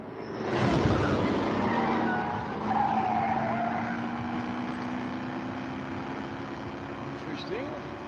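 A Mahindra Thar Roxx tears along at around 140 km/h with its tires skidding: a loud, sustained engine roar and broad tire scrub that swells early, then holds steady for several seconds, close to the listener.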